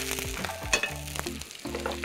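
Moong dal tadka frying in a pan, a steady close sizzle that crackles and pops in short bursts, with some spoon stirring and scraping over it and no voices.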